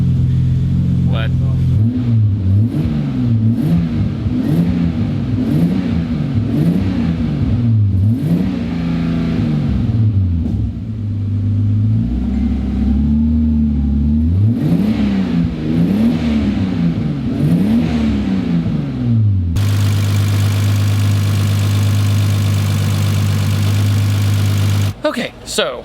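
Turbocharged Nissan 240SX engine with an exhaust leak near the turbos, revved repeatedly in rising and falling bursts between idle stretches, loud and close, then settling into a steady idle.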